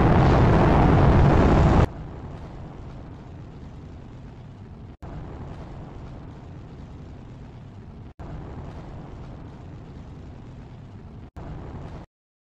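Rocket launch in a video game, starting with a loud roaring blast that drops into a steady, muffled engine rumble interrupted by brief cuts.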